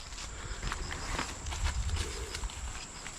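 A horse hauling freshly harvested rice crosses a bridge, its hooves clip-clopping in a steady, moderately close rhythm over a constant background hum.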